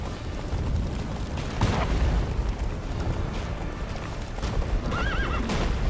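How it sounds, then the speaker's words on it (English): A horse gallops in The Witcher 3 video game, its rapid hoofbeats drumming throughout amid deep rumbling booms, with a loud whinny near the end. "Run, Roach. Slow now. Whoa"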